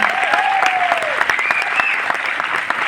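Lively audience clapping at a success celebration in Delhi, a close, dense patter of many hands with a few voices calling out over it.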